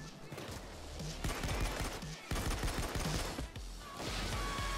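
Gunfire during a bank heist in Payday 2, a steady, loud stretch of rapid shots and clattering impacts with voices mixed underneath.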